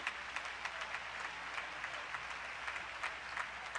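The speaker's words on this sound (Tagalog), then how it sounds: "Pumalakpak muna kayo sa ating mahal na Panginoon." A church congregation claps together in sustained, steady applause, a dense wash of many hands filling the room at moderate distance, with no voices over it.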